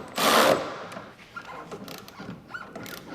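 Socket wrench tightening lift-kit nuts on a 1990-98 Daihatsu Hijet mini truck: a brief burst of loud mechanical clatter at the start, then scattered faint ratcheting clicks and small metallic taps, with no talk.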